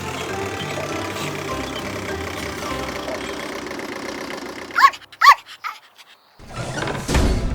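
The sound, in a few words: excavator and bulldozer engines idling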